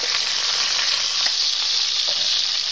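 Short ribs sizzle and fry steadily in a hot pan as they brown, a loud, dense, continuous crackle with occasional small pops and no voices.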